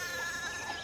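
A sheep bleats once in the game Pentiment, a short, wavering, nasal cry that sounds close and moderately loud.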